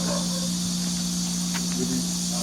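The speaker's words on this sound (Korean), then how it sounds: "한낮이라 풀매미 소리도 우렁차게 들리고요." Grass cicadas buzz at midday in a remote mountain hillside setting, a steady faint insect drone with a few brief chirps, lasting throughout with no voices.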